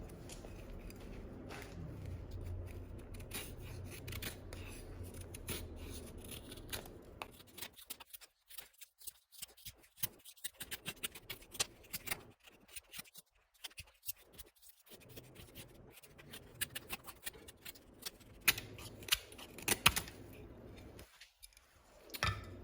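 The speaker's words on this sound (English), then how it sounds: "we're gonna do a little shaving in this pine right here" A fixed blade knife shaves pine wood close up, giving quiet, irregular scratchy strokes and rasps with brief pauses between cuts.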